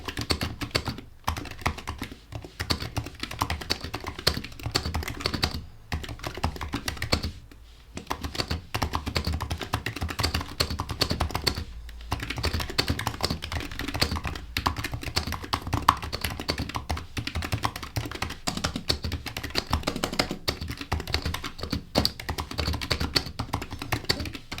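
Steady rapid typing on a Razer Huntsman Mini compact keyboard, close and clear, with dense clacky keystrokes and a few brief pauses, no voices.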